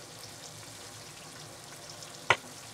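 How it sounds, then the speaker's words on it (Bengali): Pieces of rohu fish fry lightly in hot oil with a faint, soft sizzle throughout, broken near the end by one sharp brief pop or clatter; no one speaks. "এখন আমি মাছগুলো উল্টে দিব, দিয়ে অপর পাশটাও হালকা ভেজে নেব।"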